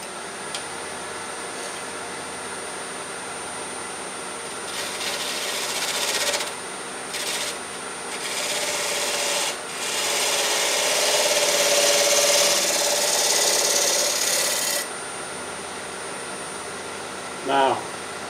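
A wood lathe spins a mulberry log held in a dovetail chuck while a cutting tool scrapes and rasps against the wood, a steady hum under bursts of brighter cutting noise that come and go, with talking briefly near the end.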